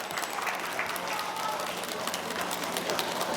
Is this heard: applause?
yes